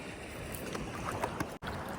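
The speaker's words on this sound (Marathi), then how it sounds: "आणि लाटा येतात." Sea waves wash onto a shore while fishing for crabs, making a constant broadband rush of surf with soft swells and wind, heard close and without speech.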